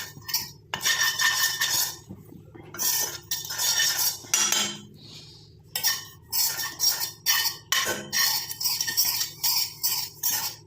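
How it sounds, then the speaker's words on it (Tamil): A metal spoon stirs and scrapes gooseberry powder frying in a pan, in close, repeated clinking strokes with brief pauses, growing into a steady rhythmic scraping toward the end. "இந்த பொடியை வந்து ஃப்ரை பண்ணிக்கிறேன்"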